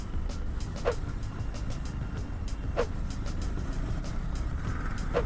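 Vehicles crawl and idle through a Mumbai traffic jam, a continuous low rumble of engines broken by three short horn toots and some beeping, with no speech.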